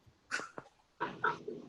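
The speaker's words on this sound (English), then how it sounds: "Oh, be nice to your dog." A dog heard during a remote select board meeting, giving a few short huffs and yips in quick bursts close to the microphone, with no talking over it.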